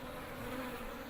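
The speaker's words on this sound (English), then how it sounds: "You can just hear that loud hum from this hive." A hive of Africanized killer bees taken from under a shed in Tucson gives off a loud, dense, steady buzzing hum that fills the space with no other sounds.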